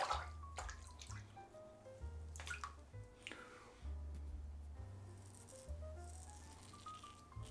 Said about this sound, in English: flip the razor. Okay, I'm gonna give it a rinse.